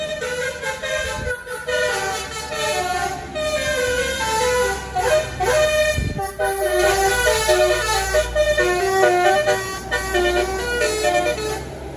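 A tour bus from Pangandaran blasts its telolet horn in loud, repeating melodic multi-tone phrases, with the rumble of road traffic beneath.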